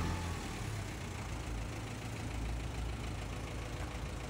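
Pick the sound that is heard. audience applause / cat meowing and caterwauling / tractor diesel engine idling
tractor diesel engine idling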